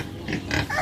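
Native pigs and piglets on a Philippine farm give several short, close grunting oinks in quick succession.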